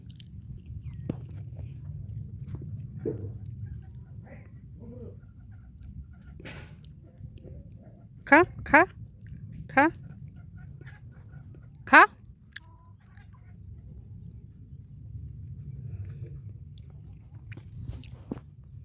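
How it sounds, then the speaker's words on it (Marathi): A dog chews and bites a pastry nearby, with a few sharp wet crunches in a quick cluster over a quiet, low background drone. "करंजी पळवली ब्रुनोने करंजी"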